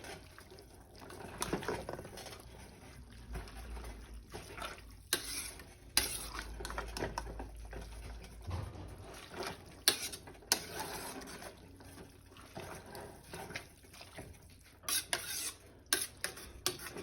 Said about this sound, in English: just stir them up good before I leave them alone and let them cook